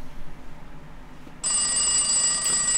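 A telephone rings as a wake-up alarm in The X-Files Game, a sudden loud electronic trill that starts after a quiet stretch and continues steadily to the end.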